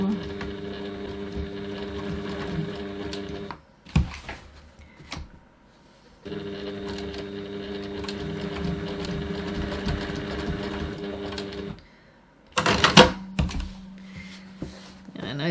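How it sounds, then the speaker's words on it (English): A sewing machine back stitches into the corner of a handmade bag in two steady runs of whirring, rhythmic stitching, close and fairly loud, broken by short pauses and handling clicks. "Just back stitch into that corner."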